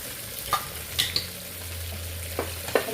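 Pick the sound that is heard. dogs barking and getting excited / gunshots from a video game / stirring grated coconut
stirring grated coconut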